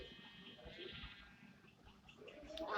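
Goats bleat on a Minecraft farm, with game bleats that are brief and fairly faint over a busy, murmuring background. Livestock pens for goats, cows and chickens are nearby.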